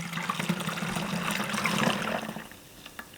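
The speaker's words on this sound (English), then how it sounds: "I've got a plastic funnel that will make it easier to pour this into the bottle" Black sesame milk pours through a plastic funnel into a bottle, a steady liquid gush lasting about two and a half seconds before trailing off, close and alone.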